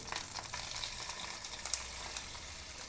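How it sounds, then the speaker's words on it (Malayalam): Marinated sardines frying in a pan of hot oil, a steady close sizzle with faint crackles running throughout and no voices. "അപ്പോൾ ഒരു അഞ്ചാറ് ചാള ഞാൻ വറുത്ത് കൊടുക്കുന്നുണ്ട്"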